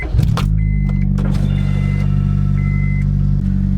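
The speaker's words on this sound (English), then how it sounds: "I haven't done a cold start on the channel in so long." A BMW E36 328i convertible engine cold-starts with a brief crank and catches, then settles into a steady, loud idle with a deep low rumble that runs to the end.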